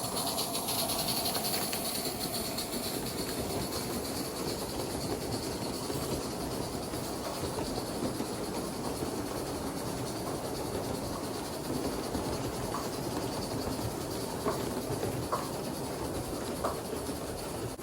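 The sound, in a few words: live steam model locomotive running on model railway layout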